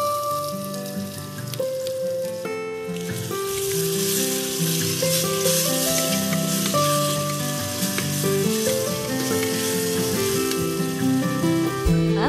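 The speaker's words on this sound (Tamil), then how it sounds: "ஆனியன் வந்து கோல்டன் ப்ரௌன் ஆனதுக்கப்புறம் நம்ம டொமேட்டோ ஆட் பண்ணிக்கலாம்" Onions and tomato frying together in a pan for green chilli chicken biryani give a steady, close sizzle that continues throughout, with music playing over it.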